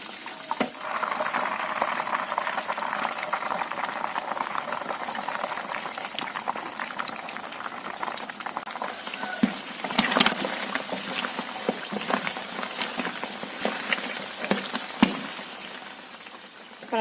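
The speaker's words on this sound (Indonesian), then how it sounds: "Kemudian kita goreng tongkolnya." Tongkol tuna frying in hot oil in a pan sizzles and bubbles continuously, with sharp crackles and pops scattered through the steady fizz.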